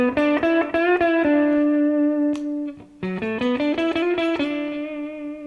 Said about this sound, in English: neck position, coil tapped. And compared to full humbucker.